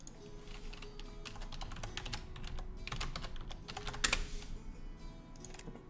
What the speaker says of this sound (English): When did I get so bad at typing?